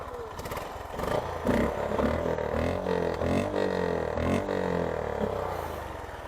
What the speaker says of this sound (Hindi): This is the exhaust note of the bike.